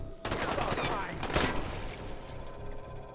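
Gunfire in the zombie survival game Dying Light, a short burst of sharp shots that fades into a lingering reverberant tail, with quiet game ambience continuing after it.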